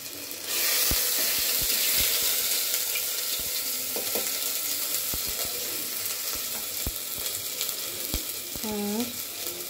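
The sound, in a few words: ginger sizzling as it fries in a pan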